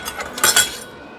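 A metal kitchen spoon clinks against other utensils in a brief cluster of bright, close taps, with no talk over it.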